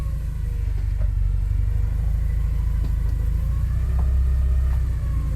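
A Porsche 944, driven for the first time in over 20 years and left in drive with no handbrake, rolls slowly forward as its engine idles in a steady, close, low rumble with no talk.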